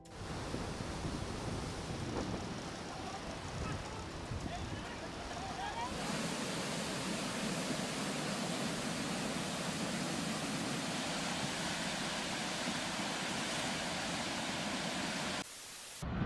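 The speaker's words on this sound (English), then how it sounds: "Floods take over a small town in Germany." Floodwater rushing through a small town in Germany makes a loud, continuous broadband roar that fills the whole stretch, shifting character partway through and cutting out briefly near the end.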